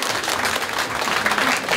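Steady applause from a campaign rally crowd in Mailiao, Taiwan, a dense wash of many hands clapping at a constant level for the whole short stretch.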